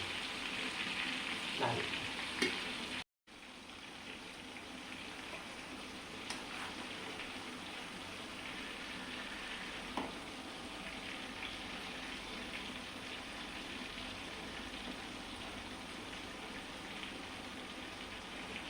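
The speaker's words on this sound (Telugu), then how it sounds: "మా అమ్మ చేపల కూరలో ముక్కలు వేయించాలంటే ఇలానే వేయించాలి" Fish pieces fry in hot oil for a fish curry, giving a steady, fairly loud crackling sizzle that runs throughout with no talking, broken only by a brief silent dropout near the start.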